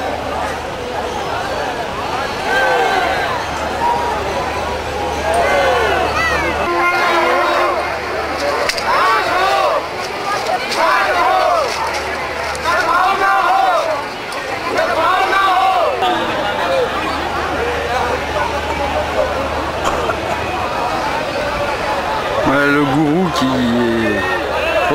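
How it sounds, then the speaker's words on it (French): A huge crowd of pilgrims and processions at the Kumbh Mela by the Ganges in India makes a loud, continuous hubbub of many overlapping voices and shouts, sustained throughout with only brief dips. "Je crois que je vais rapidement me retrouver encerclé par toute cette foule"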